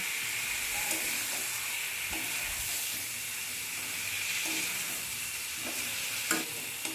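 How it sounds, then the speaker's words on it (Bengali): A spatula turns fried fish and Malabar spinach stalks through sizzling masala in a pan, with a constant hissing fry broken by soft periodic scraping strokes, close up and with no one speaking. "মশলার সাথে সবজি মাছ খুব ভালো করে খুন্তি দিয়ে মিশিয়ে নিচ্ছি"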